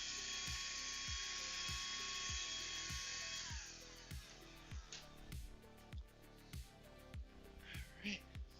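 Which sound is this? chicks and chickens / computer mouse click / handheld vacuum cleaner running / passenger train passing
handheld vacuum cleaner running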